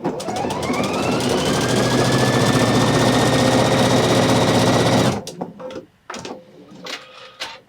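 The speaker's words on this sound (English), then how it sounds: "on the Quilt Expression 725, you get a segmented zigzag. Stitch a little bit of that." A Pfaff Quilt Expression 725 sewing machine stitches a segmented zigzag with a loud, steady, rapid whirring hum for about five seconds. It then stops abruptly, and a few quieter clicks and handling noises follow.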